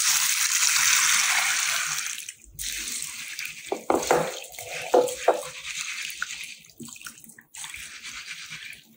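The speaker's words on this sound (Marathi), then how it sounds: "हा अख्खा मसूर 5 ते 6 वेळा भरपूर पाणी घालून खळखळ खळखळ असा धुवून घ्यायचा." Whole masoor lentils are rinsed under a running tap: a steady splashing stream at first, then, after a brief pause, a closer series of sloshes, swishes and drips as the lentils are stirred in the water.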